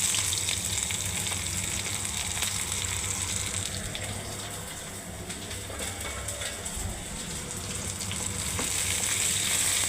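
Onion frying in a pan with garlic and cumin, a dense continuous sizzle close by that eases slightly midway and then swells again, with no voices.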